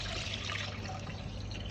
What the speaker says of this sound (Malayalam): ഒരു പാത്രം വെച്ചിട്ട് നമ്മൾ തേങ്ങാപ്പാൽ ഇതിലൊഴിക്കുക.